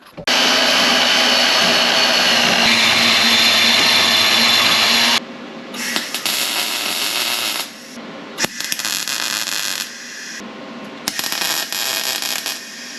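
Exhaust cutout pipes for a VW TDI A3 or Jetta are cut with a loud, steady power tool that roars continuously for about five seconds. It then returns in several shorter bursts separated by brief pauses.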